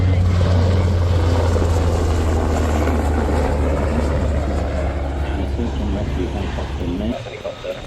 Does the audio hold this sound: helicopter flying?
yes